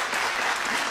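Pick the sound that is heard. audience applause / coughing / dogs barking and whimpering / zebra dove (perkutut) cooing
audience applause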